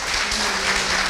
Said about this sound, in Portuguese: A gente pode aplaudir de novo.